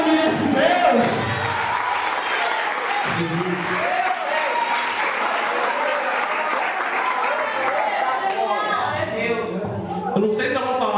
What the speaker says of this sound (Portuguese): aplaude ao nome desse Deus